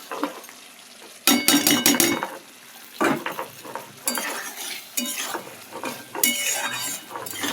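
Paneer cubes are tossed into a pan for a paneer curry and stirred, with loud bursts of spoon scraping and clattering against the pan over an underlying sizzle, separated by short quieter gaps.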